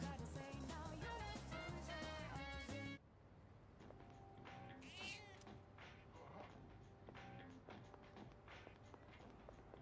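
A cat in Persona 3 Reload meows a short, high mew after a burst of music cuts off, then soft taps and quiet game ambience follow with light background music.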